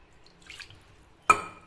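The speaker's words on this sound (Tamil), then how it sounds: "இதில் லைட்டாக தண்ணி ஊற்றி அதையும் ஊற்றிடலாம்." Water splashes into a pot of thoothuvalai rasam in a home kitchen: a soft trickle, then one sharp, bright splash followed by a brief fading ring, close and quiet.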